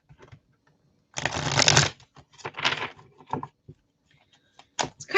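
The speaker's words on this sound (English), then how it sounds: "Let me just get some shuffling going here." A deck of playing cards is shuffled close up: one long riffling burst, followed by several shorter shuffles and cascades with quiet gaps between.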